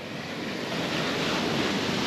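Ocean surf rolls steadily onto Surin Beach in Phuket, a broad continuous wash of waves mixed with wind buffeting the microphone, with no talking.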